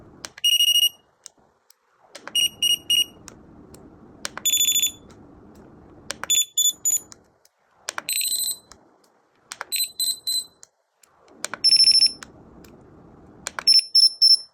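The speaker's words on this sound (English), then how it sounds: "So the beep is going to be different based on what you're doing it." A Jugbow dog training collar gives out a series of short, bright electronic beep tones in separate bursts with brief silent gaps, each burst a slightly different pattern, loud and close.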